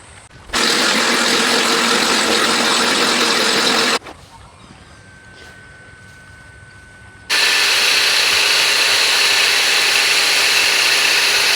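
A lawn mower engine roars loud and close while mowing with the cutting height set too low. It runs in two long steady bursts separated by a few seconds of quieter running with a faint whine.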